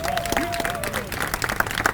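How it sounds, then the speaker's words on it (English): Crowd applause at an outdoor corner class in the Bronx, dense clapping mixed with voices and cheers from the gathered audience, fairly loud and close. "Y'all give him a round of applause."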